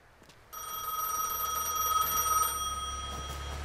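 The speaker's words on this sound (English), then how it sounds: "we gotta go answer the phone" A telephone rings inside the video game Gas Station Simulator, a steady electronic bell tone sounding continuously for about two seconds before tapering off, clear and alone with no talking.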